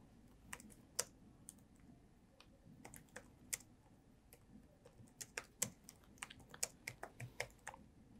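Typing on a computer keyboard while writing C code, sharp irregular key clicks close to the microphone, sparse at first then quickening into rapid bursts, with no speech.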